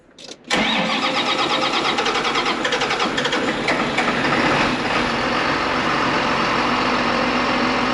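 A John Deere 4020 tractor engine cranks and catches after a brief start, then settles into a steady, loud, close idle that runs on with no voices.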